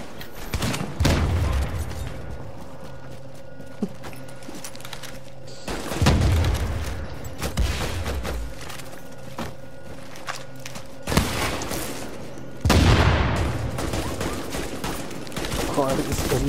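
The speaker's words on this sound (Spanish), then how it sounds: "¿Desde dónde está pegando con la escopeta, eh?" Shotgun blasts ring out in a multiplayer shooter video game, three or four loud, sharp booms spaced several seconds apart, each followed by a decaying echo, with quieter game noise between.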